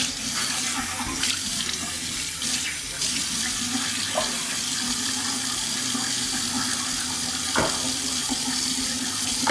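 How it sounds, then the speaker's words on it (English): Water runs steadily from a kitchen tap into a sink while items are rinsed, with a few soft clinks over the constant splashing. "So now I'm just making sure I rinse everything well again."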